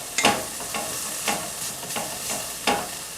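Jarred jalapenos warming in a frying pan with tomatoes and chilies for a Mexican-style frittata, a soft steady sizzle broken by several brief scraping stirs, close and without talk.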